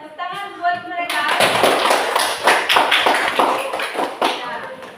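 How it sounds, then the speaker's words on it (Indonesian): A classroom group claps for students who have just presented, a loud dense burst of many hands that starts abruptly after a short spoken bit and holds steady for several seconds. "Tepuk tangan buat mereka."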